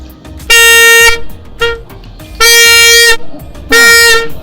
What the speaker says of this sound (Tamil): இந்த சவுண்டு கூட இவங்க ஊர் இந்த பிப்பில இருந்தா வருது